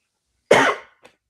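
A single sharp cough, close and loud, followed by a brief faint throat noise.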